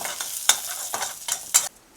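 Steady sizzling of garlic frying in a little oil in a pan, broken by several scraping stirs of a utensil, up close, then it quiets.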